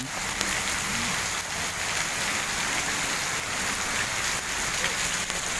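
Steady rain falling, a dense even hiss of drops on surfaces that holds at a constant level throughout, with no voices.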